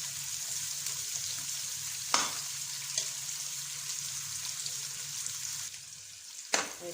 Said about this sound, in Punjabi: ਦੇਖੋ ਪਿਆਜ਼ ਆਪਣੇ ਗੁਲਾਬੀ ਹੋ ਚੁੱਕੇ ਆ ਆਪਾਂ ਥੋੜਾ ਜਿਹਾ ਇਹਨਾਂ ਨੂੰ ਹੋਰ ਭੁੰਨਾਂਗੇ